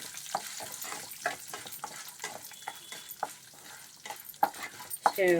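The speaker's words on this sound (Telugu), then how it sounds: "కడాయి కింది ఆయిల్ వేస్తున్నాను పోపు సామాన్లు ఉన్నాయి కదా ఇవి వేస్తున్నాను శనగపప్పులు శనగలు ఉన్నాయి కదండి ఇవి కూడా వేస్తున్నాను" Spices for tempering and chana dal hit hot oil in a kadai, making a steady crackling sizzle with sharp pops and spatters scattered throughout, fairly close and with no voice over it.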